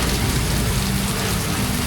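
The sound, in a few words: rain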